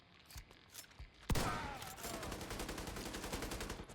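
Gunfire in the shooter game The Division 2 opens with a few scattered shots, then one sharp loud blast sets off a sustained rapid automatic burst that keeps going to the end.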